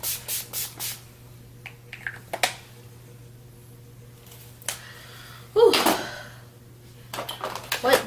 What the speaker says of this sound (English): So now we're just gonna put some finishing spray on this.